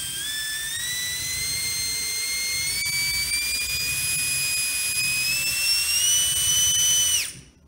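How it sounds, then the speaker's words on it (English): A small electric motor in an SCX24 Toyota FJ40 RC crawler whines at high speed, a loud steady pitched whir held close for several seconds before cutting off abruptly. "Still not even top speed for that motor."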